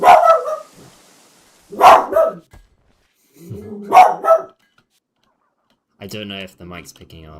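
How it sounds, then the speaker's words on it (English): A dog barks nearby in three loud, separate bursts about two seconds apart, and then someone speaks over a background of quiet game sound. "if you can hear him barking, I'm sorry"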